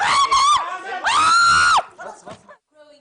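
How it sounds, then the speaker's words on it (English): A TV presenter screams in a television studio during a raid by armed troops in Egypt: two long, loud, high-pitched screams, followed by brief, fainter shouted sounds. "The presenter's scream became an internet sensation."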